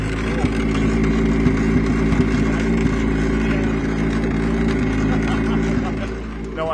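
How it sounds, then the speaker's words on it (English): Several Britcar prototype race car engines idle at Silverstone, a dense, loud, continuous low rumble with steady throbbing harmonics and occasional small blips, close by and unbroken, easing slightly near the end. "Let's listen to these cars firing up. This is just idling right now."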